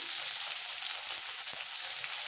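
Ingredients for a tangy-spicy ripe jujube chutney fry in a pan, making a dense, even, close sizzle that holds steady throughout with no voices.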